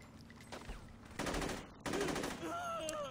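Bursts of AK assault rifle fire from the video game Westside Rollerz come as two sustained rapid volleys, loud and close, over steady background game noise, followed by ringing tonal effects.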